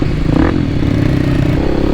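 Kawasaki KLX300 dirt bike fitted with a Yoshimura exhaust, ridden on mountain roads, gives a loud, steady engine rumble that stays close throughout, with no talking.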